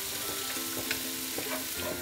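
Carrots and onions cook in a pan with a steady, close sizzle and faint stirring scrapes.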